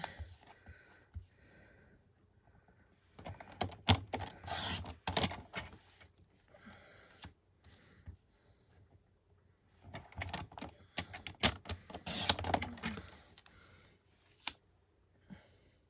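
Paper pieces for a Christmas gift box envelope are being cut, probably with a paper trimmer, giving soft clustered clicks and slicing scrapes in two busy stretches with quieter gaps, faint and close.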